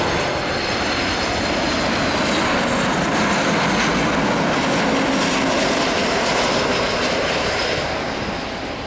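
An airliner at Salvador airport in Brazil on its takeoff run, a loud, continuous roar of aircraft engines that stays powerful throughout.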